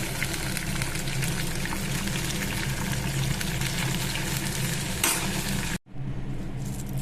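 Pirandai leaves frying in hot oil, a dense steady crackling sizzle that runs loud and close, broken by a sudden drop near the end before resuming, with no talk.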